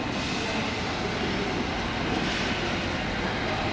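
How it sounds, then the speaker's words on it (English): A London Underground train moving slowly through Moorgate station, a steady close rumble and rattle of wheels filling the platform without pause. "That train's already going pretty slowly."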